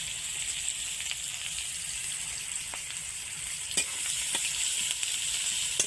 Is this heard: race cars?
no